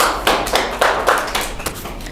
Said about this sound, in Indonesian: Terima kasih Dek Risma, beri aplaus untuk kelompok 1